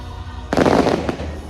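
Fireworks bursting over Epcot's Canadian Pavilion, a loud crackling burst starting midway with a second sharp pop shortly after, heard from nearby outdoors.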